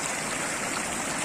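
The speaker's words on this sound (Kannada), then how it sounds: "ಇವತ್ತು ಮಳೆ ಆಗಿದ್ದರಿಂದ ಸ್ವಲ್ಪ ಹೆಚ್ಚಿನ ಪ್ರಮಾಣದ ನೀರು ಹರಿದು ಬರ್ತಾ ಇದೆ." A river swollen after rain rushes past in a continuous broad wash of flowing water, steady and fairly loud, with no voices.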